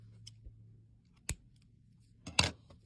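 Scissors snip through yarn while a hand-knitted cardigan is being finished, a few quiet, close clicks and one sharper cut near the end, in a hushed room with no talking.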